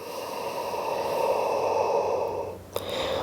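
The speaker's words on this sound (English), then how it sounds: "We just want the back to be relaxed. And we're breathing." Slow, close breathing during a chair yoga session, a soft airy inhale swelling and then fading, followed by a brief sharp nasal puff near the end.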